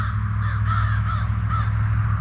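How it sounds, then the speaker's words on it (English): Crows cawing around a cemetery, a few hoarse calls partly masked by a loud steady low hum or wind rumble that runs underneath throughout. "I wish the crows would shut up for a minute."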